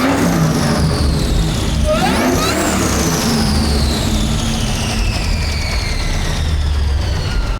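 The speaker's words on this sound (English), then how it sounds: "He was kind enough to blow out our ears and give us a couple revs." Ford Lightning pickup truck running on Powerade revs its engine loudly up close, a rising rev sweep peaking then falling back, with steady engine roar throughout.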